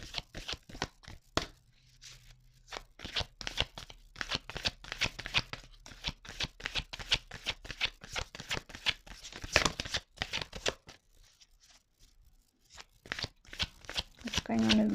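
Tarot cards being shuffled, a long run of crisp riffling and slapping card bursts close by, with a voice speaking softly between and over the shuffling.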